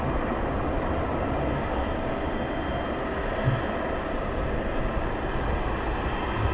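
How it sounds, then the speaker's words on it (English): A DHL Boeing 777 cargo jet departs at night at East Midlands Airport, giving a steady, fairly loud, broad engine roar that holds without a break through the whole stretch. "DHL 777 departs, AEROLOGIC taxis in."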